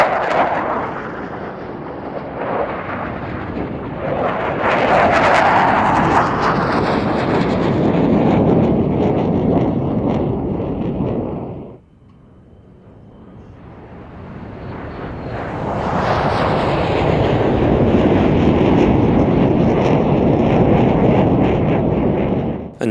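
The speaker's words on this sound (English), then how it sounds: "a pair of F4F Phantom IIs from Jagdgeschwader 71 at Wittmund, acting the roles of intruder aircraft and being intercepted by the EF-2000s" Loud roaring jet noise from F-4F Phantom II fighters of Jagdgeschwader 71 and EF-2000 Eurofighters at an airshow, swelling through a long pass, dropping away briefly, then building again into a second thunderous flyby.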